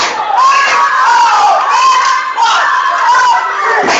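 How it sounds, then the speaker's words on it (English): Cheerleaders and a crowd at a football game shout in loud, sustained group cheers that rise and fall in waves, continuing without a break. "Let's hope the cheerleaders give them a nice, great cheer right now."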